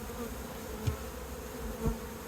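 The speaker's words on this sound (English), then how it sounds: "Still has a bunch of bees on it." Honey bees buzz around an opened hive during a beekeeping inspection in Barbados, a steady, close drone with a couple of brief louder passes near the listener.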